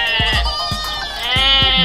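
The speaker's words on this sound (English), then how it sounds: "Goat." A toy goat bleats in a loud, wavering cry through the whole stretch, with a few soft thumps and taps underneath, heard close and without voices.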